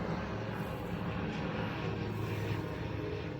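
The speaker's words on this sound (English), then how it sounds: "It's just a small plane" A small propeller plane flies near an airport in rural Tasmania, its engine drone steady and continuous throughout at moderate distance.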